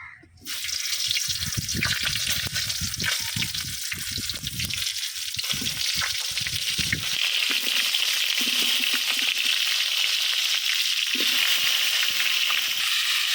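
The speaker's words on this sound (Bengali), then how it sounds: "প্রথমে আমি এই যে ফুলকপিগুলা তেলের মধ্যে সুন্দর করে বাইজা ভেজে ভাজা ভাজা করে নেবো" Cauliflower florets frying in oil left from frying rohu fish give a steady, loud sizzle that runs on continuously, with clatter and stirring noises through the first half.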